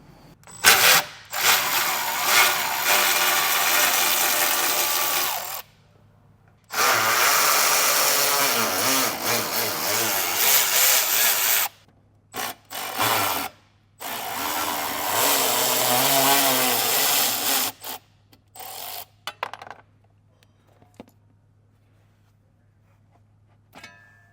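Power tool buzzing in several loud bursts with short pauses between, removing 10mm bolts from a panel on a 2016 Ford F-150, near and alone.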